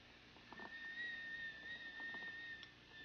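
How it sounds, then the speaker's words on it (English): A tea kettle filled with liquid nitrogen whistles with a thin, steady high-pitched tone, faint and continuous, alongside soft bubbling and hissing. "And my tea kettle is whistling."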